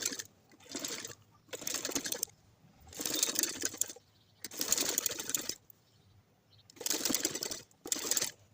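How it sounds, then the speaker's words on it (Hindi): Sewing machine stitching a folded garment sleeve, running in five or six separate bursts of steady rapid stitching, each a second or so long with short quiet pauses between, close and fairly clear with no talk. "अब आपको बाजू को फोल्ड करके इसके ऊपर फिटिंग की सिलाई लगा करके बाजू को तैयार कर लेना है।"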